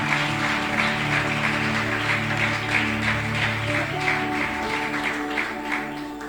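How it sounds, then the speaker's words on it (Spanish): A church congregation applauds during a sermon, a continuous, fairly loud wash of clapping that holds steady throughout. "Dale ese aplauso al Señor."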